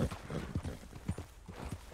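Horse hooves clip-clop in Red Dead Redemption 2 Online, a quiet, steady rhythm of soft thuds under a faint wash of game ambience.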